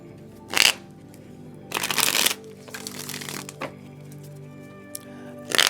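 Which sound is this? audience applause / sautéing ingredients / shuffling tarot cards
shuffling tarot cards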